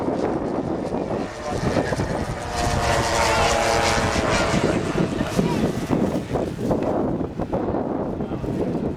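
A model Lancaster bomber with propeller engines droning steadily and loudly as it comes in to land at a model air show, with a continuous engine roar and people talking faintly underneath.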